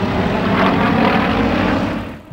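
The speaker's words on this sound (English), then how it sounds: "Powered by a 350 horsepower Ivanchenko engine, the aircraft has plenty of power" A Yak 52 aerobatic plane with a 350 hp Ivchenko radial engine drones loudly and steadily overhead, the propeller roar holding constant before fading away at the end.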